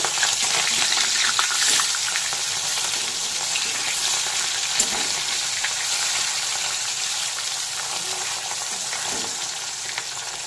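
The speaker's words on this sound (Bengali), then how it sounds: "মাছ ভেজে তুলে নিয়েছি" Fasha fish frying in hot mustard oil in a pan, a steady, close, dense sizzle with small crackles and occasional stirring, continuous and fairly loud with no voices.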